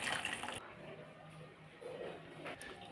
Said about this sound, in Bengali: এখন ঝোলটাকে ঢেলে নিচ্ছি